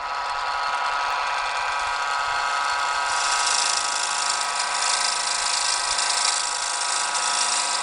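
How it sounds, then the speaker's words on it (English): A power drill bores through a workpiece with a 10 millimeter bit, a steady high whine holding level for several seconds and growing slightly harsher partway through, loud and close with no talking. "We're going to drill the center of each of these with a 10 millimeter drill bit."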